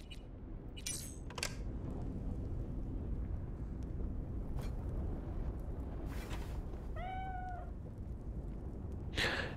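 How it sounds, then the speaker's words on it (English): A single cat meow from the video game Cyberpunk 2077 rises out of quiet background hiss, with a few soft clicks and rustles scattered before it. "And now the cat keeps meowing"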